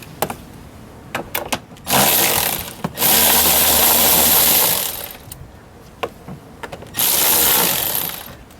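A power tool backs out screws on a Ford F350 driver-side door panel in three loud bursts of whirring, separated by short pauses filled with clicks and handling noise.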